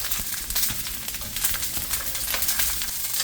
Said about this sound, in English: Mix those around and let them fry up until they have a golden brown color on them